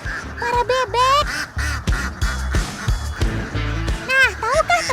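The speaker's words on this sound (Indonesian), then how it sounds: "kasih makan para pendemo, para bebek" A flock of farm ducks quacks loudly and repeatedly while being fed, the rapid overlapping quacks continuing throughout with a voice talking over them.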